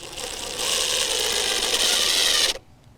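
A screw whines as a power driver drives it at an angle through a deck board into the joist. The steady buzzing run lasts about two seconds, close up, then stops abruptly.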